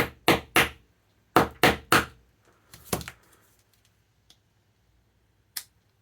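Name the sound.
whacking device seam with wire strippers to open it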